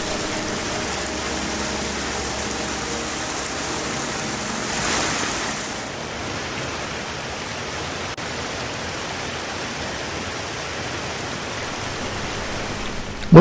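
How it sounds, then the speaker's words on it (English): Heavy, murky floodwater rushing down a creek near a weir in Lane Cove National Park, Sydney, after weeks of rain: a steady, broadband roar that holds throughout, close and unbroken, with no voices. "There's a lot of water going down"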